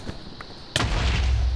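A Minecraft explosion bursts out abruptly after a brief quiet stretch, a loud blast settling into a rumbling low roar that carries on to the end.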